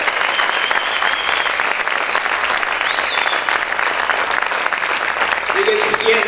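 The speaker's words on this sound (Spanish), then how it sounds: "¿Cuántos pueden aplaudir más fuerte al Señor?" A church congregation applauds loudly and continuously, a dense wash of many hands clapping with voices mixed in and a few high shouts, sustained throughout.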